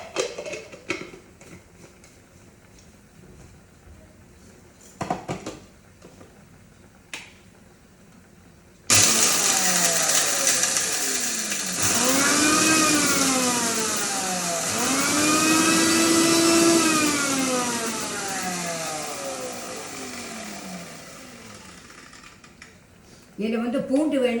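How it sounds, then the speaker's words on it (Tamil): A mixer grinder grinds raw coriander seeds, pepper, cumin and dried chili, starting abruptly with a loud whirring roar whose pitch swoops up and down as the blades run, then stops, with quieter handling sounds before and after. "அதை மிக்சியில் அரைக்க போகிறேன்"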